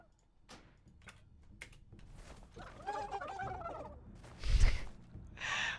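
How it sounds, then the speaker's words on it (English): A ground mount in a video game lets out a turkey-like gobbling, gargling call that builds to a louder burst, with clicks and taps around it. "It's like it's channeling 5 different turkeys from the depths of the underworld."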